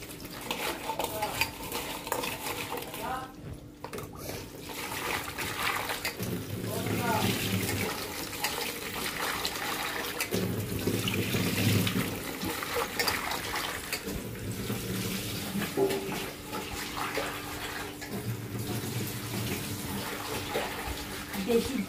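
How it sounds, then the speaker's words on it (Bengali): Crab pieces being washed with salt under running water, a continuous tap stream with splashing and rubbing in a bowl, plus intermittent clatter and a voice speaking at times. "নুন দিয়ে আমি ভালো করে ধুয়ে নিলাম।"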